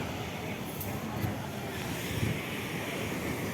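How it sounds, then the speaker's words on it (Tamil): Rough sea surf breaking at a shoreline, a steady broadband wash of waves with wind noise over the microphone, continuous and fairly loud throughout. "கடல் கொஞ்சம் கொந்தளிப்பாக தான் இருக்குது."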